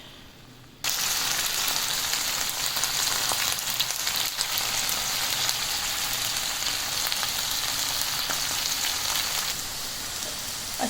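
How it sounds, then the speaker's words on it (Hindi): Okra (bhindi) frying in hot oil starts with a sudden loud hiss that settles into a steady, dense sizzle, crackling evenly for several seconds with no voices. "तो सबसे पहले करेंगे भिंडियों को फ्राई"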